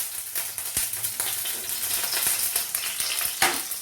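Curry leaves crackle in hot coconut oil, a continuous bright sizzle with scattered pops and spits, moderately quiet and close.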